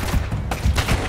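Gunfire from a weapon in Uncharted: Drake's Fortune, a fast burst of several loud, close shots packed into about a second with no talk over it.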